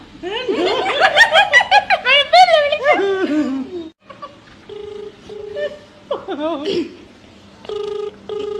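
Someone laughs loudly, then a phone line gives short dialing tones followed by repeated ringing beeps at a steady rhythm.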